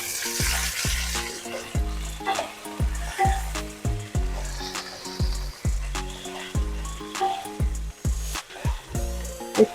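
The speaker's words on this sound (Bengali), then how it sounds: "দেখুন একটু ভাজা হয়ে গেছে, এবার আমি পটলগুলো দিয়ে দেবো।" Pointed gourd (potol) frying with chopped onion in a pan sizzles steadily up close, broken by repeated rhythmic scraping and knocking of a spatula stirring against the pan.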